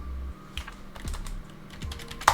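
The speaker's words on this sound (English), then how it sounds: "This is a lot of typing." Steady typing on a computer keyboard while coding in R, a dense run of quick key clicks at close range with a sharper clack near the end, no voices.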